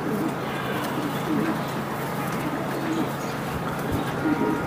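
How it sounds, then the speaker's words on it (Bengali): A male racing pigeon coos in low, steady murmurs close by, with a continuous rumbling background bed and soft rustling throughout. "এই যে একটা নর কবুতর"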